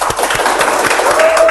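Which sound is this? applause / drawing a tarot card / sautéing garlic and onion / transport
applause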